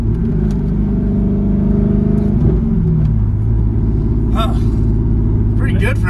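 A cheap used Corvette's engine drones close and loud, with revs building, a gear shift dropping the pitch around the middle, then steady pulling under load.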